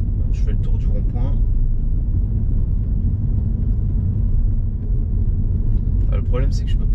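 A car circles the Trocadéro roundabout in Paris, near the Eiffel Tower, with a steady low engine and road rumble heard from inside the cabin, and brief talk near the start and end.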